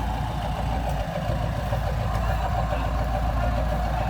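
A Massey Ferguson 390 tractor with registration K570 SSW idles nearby at harvest, a steady low diesel rumble that holds an even level throughout with no talking.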